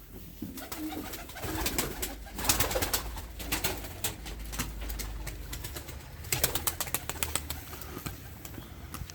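Pigeons coo softly while wings flap and flutter in bursts, rustling close by over a low outdoor background at the Edirnekapı pigeon market in Istanbul.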